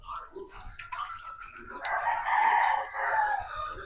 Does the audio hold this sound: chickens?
yes